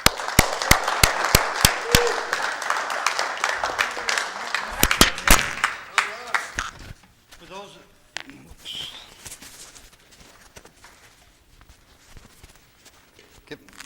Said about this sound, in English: let's give him a warm round of applause for Mr.